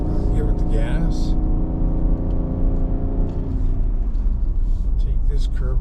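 A 2022 Nissan Armada Midnight Edition SL pulls an 8,000 lb trailer up a narrow mountain road in the Rockies, its engine droning steadily as it accelerates, with bits of talk inside the cabin.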